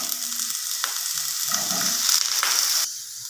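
Potatoes drop into 3 to 4 tablespoons of oil in a pan on medium-high heat and set off a loud, rising hiss and crackle that holds steady, then drops back to a gentler sizzle.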